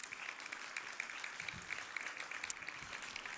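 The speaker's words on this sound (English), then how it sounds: "let's give a big round of applause for all the startups and, of course, our judges of the day" An audience applauds startups at a pitch competition during a startup festival: steady, dense clapping that fills the room at an even level throughout, with no voices on top.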